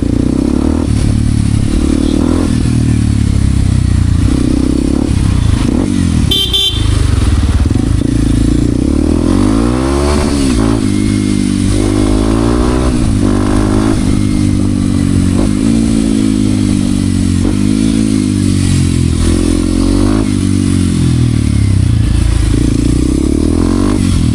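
A Kawasaki KLX 230 dirt bike ridden on the move, its single-cylinder engine loud and close throughout, rising and falling in pitch as it revs, with clattering and scraping over the terrain.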